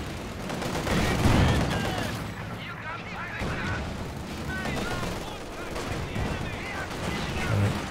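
Machine gun fire and other gunfire in Company of Heroes 2 crackle in rapid bursts alongside booming artillery in a loud, busy battle, with a commentator's voice talking throughout.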